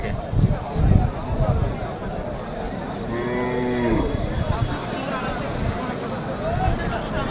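Cows moo at a busy cattle market in Sirajganj, one long drawn-out low moo standing out over a crowd of people talking.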